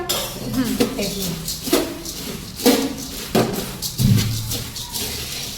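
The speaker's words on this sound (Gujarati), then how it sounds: "બધા મમરા મસ્ત મિક્સ કરી દેવાના" Puffed rice (mamra) being tossed and mixed with a utensil in a large kadai, giving repeated scraping clinks and soft rustling strokes at a steady, close rhythm.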